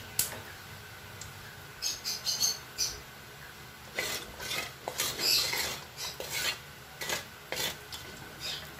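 Tofu and pork cooking in a pan with a little oil: close, uneven bursts of scraping and clinking as a utensil stirs against the pan, with a faint steady sizzle underneath.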